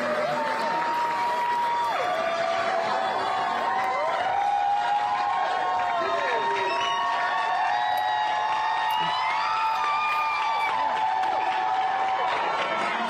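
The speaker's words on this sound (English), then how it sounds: "To tremendous applause" A crowd cheers and applauds inside the chamber of the Tennessee State Legislature as Rep. Justin Jones re-enters; steady clapping is mixed with whoops and shouting voices throughout, loud and sustained.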